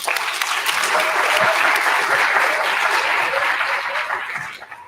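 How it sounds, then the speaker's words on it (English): Loud, full applause from a youth theatre showcase audience, dense steady clapping filling nearly five seconds before fading at the end, with faint voices and a chuckle mixed in. "Let's give a big round of applause to them"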